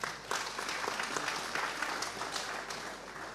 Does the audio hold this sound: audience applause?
yes